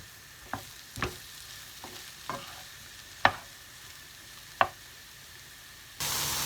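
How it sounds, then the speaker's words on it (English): A spoon scrapes and knocks a few times against a pan of seafood paella simmering on medium heat, with sharp isolated clinks over a faint steady bubbling hiss. "Give it a quick stir and then let it simmer for about 2 to 3 minutes on a medium heat"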